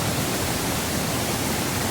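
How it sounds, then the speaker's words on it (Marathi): A flooded river in Konkan roars past in a steady, loud, unbroken broadband rush of water with no voices over it. "इकडे पाणी बसलं येतंय जोरदार पाणी आहे"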